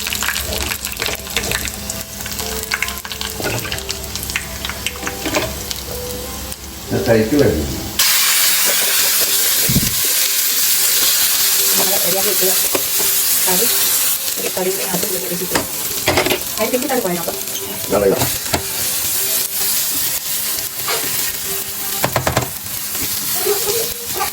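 Mustard seeds, shallots and curry leaves drop into hot oil and burst into loud, crackling sizzle with stirring and spattering, continuing steadily with a voice talking briefly at times.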